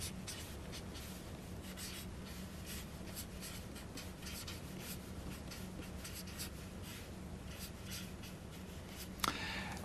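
Pen scratching steadily across paper while a maths expression for partial fractions is written out by hand, a continuous close, soft scraping with quick stroke rhythms and no talking.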